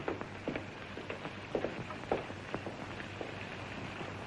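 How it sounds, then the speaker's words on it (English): Steady rain falls outdoors in dreary weather, a soft continuous patter with occasional louder drops striking a surface, low and unbroken throughout. "This miserable rainy weather."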